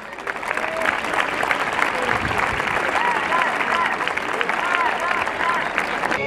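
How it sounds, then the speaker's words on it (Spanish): A crowd applauds at a bullfighting recortes contest final in Masueco, Spain, with dense clapping that holds steady throughout and voices mixed in. "vamos a pedir un fuerte aplauso para esas dos grandes empresas taurinas"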